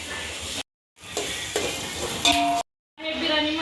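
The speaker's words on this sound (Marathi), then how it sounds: "छान असा हलवून घेऊ" Chicken biryani masala being stirred in a pan, crackling sizzle with scraping strokes and a couple of utensil clinks, interrupted by two short silent gaps.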